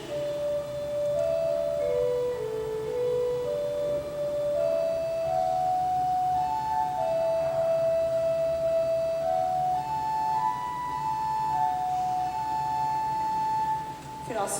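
A church pipe organ at St Mary plays the hymn tune Be Thou My Vision, a slow, sustained melody of held notes over soft chordal accompaniment, full and continuous with room resonance.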